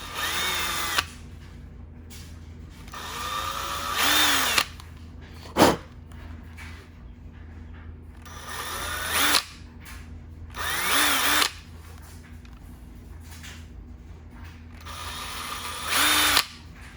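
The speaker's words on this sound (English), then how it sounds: "drill those holes." A power drill whirs in repeated bursts, drilling holes for side markers on a Nissan GT-R, several short runs separated by pauses, close and loud, with a sharp clack in between.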